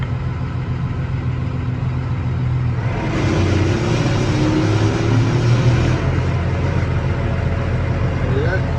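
A New Holland T7.270 tractor engine runs steadily close by, then swells louder and busier about midway as the PTO is engaged, holding that heavier drone for a few seconds before easing slightly.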